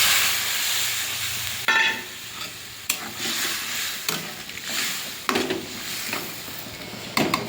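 Fish curry masala (rohu with potato) sizzling and being stirred in a pan as water is poured in, with a steady hiss broken by several sharp scraping and clattering hits from the spoon.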